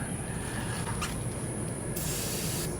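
A can of silicone spray lubricating the hinge of a spare tire pivot bracket on an Airstream trailer, a close, steady hiss of aerosol with a brief louder burst near the end, heard alone.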